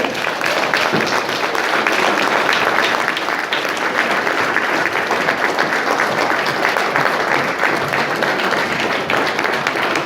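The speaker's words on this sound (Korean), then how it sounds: "여러분 박수 주십시오" Sustained crowd applause as the association flag enters at a women's political league chapter ceremony, a loud, dense, continuous clapping of many hands throughout with no talk.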